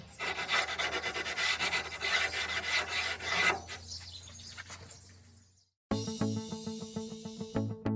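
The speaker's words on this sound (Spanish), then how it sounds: "el siguiente paso es pasarle suavemente una lija" Sandpaper rubs back and forth along the straight edge of a parquet flooring board, a dense rasping stroke sound lasting several seconds, then fading, followed after a short silence by a different tonal sound.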